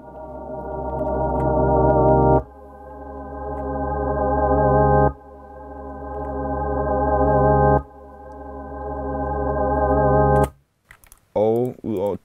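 Reversed samples play backwards, a sustained tone swelling in four repeated waves that each build and cut off abruptly, followed by brief choppy fragments at the end.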